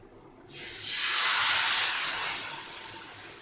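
Rava dosa batter hits a hot griddle and bursts into a loud, broad hiss that swells, then slowly eases into a steady sizzle, close up with no talking.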